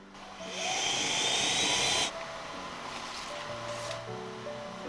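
A vacuum forming machine shaping white polystyrene gives a loud hissing suction rush for about a second and a half, then cuts off sharply, leaving a quieter hum with faint tones.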